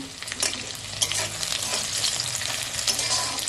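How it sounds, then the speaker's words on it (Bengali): Whole onions frying in hot oil while being stirred, a loud, continuous sizzle with scraping spoon strokes against the pan, close up and unbroken for a few seconds. "পেঁয়াজগুলো নাড়াচাড়া করে লাল করে ভেজে নেব"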